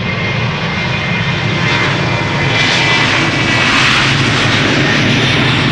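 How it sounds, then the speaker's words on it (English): A Transavia jet airliner takes off at Amsterdam Schiphol, a loud, sustained engine roar that swells slightly as it powers down the runway, heard alone without voices. "Transavia, now taking off."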